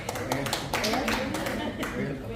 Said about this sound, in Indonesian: Tepuk tangan jangan setengah-setengah.